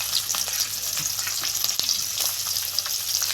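Onion fries in hot oil with a loud, dense, continuous sizzle and crackle, close up, with a few light stirring sounds and no talk.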